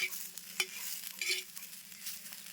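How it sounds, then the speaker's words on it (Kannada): Cluster beans frying in a thin coat of oil, a quiet close sizzle with a few light scraping stirs, faint and steady without speech. "ಎಣ್ಣೆ ಹಚ್ಚಿ ಚೌಳಿಕೆ ಹುರಿಕೆ ರೀ"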